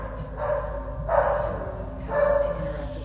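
A dog outside barks three times in short, muffled bursts spaced about a second apart while a person keeps talking indoors.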